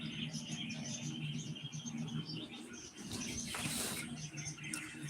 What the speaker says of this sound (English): I'm about to turn this chirping off.